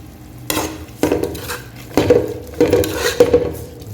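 Mutton dum biryani being stirred in a cooking pot, with a utensil scraping and clattering against the metal in several distinct strokes over a soft sizzle, close and fairly loud, no talking.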